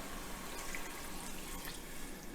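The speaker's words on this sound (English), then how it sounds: "This is 2 cups of water." Two cups of water pour into a pot of pork and turnip stew, a quiet continuous splashing trickle with faint drips, no voices.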